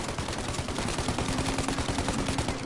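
Dense, continuous gunfire from Mafia Definitive Edition, a rapid unbroken stream of loud cracks and rumble filling the whole stretch with no pause and no speech on top.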